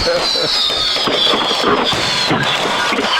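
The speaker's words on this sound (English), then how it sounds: "We've got a fireworks show." Fireworks show bursting over a packed high school football stadium during a playoff game, a dense, continuous crackle and boom of explosions with crowd noise and a commentator talking over it.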